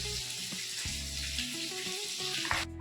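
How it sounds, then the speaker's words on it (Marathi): Ingredients frying in oil with turmeric powder and salt for paneer butter masala, a soft steady sizzle with occasional stirring clinks and scrapes in a quiet kitchen. "आता हे सगळं साहित्य आपल्याला थोडंसं तेलात फ्राय करून घ्यायचं आहे"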